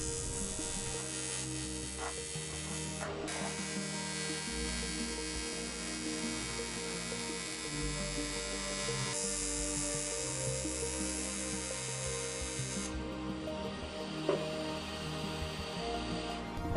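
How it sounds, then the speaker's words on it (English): Aluminum welding on a motorcycle battery tray for a Kawasaki GPz550 gives a steady, close electric buzz with a constant hum, running almost unbroken with slight shifts in tone. "I'm gonna weld them in place."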